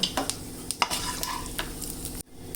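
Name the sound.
cinnamon, cloves and fennel sizzling in hot oil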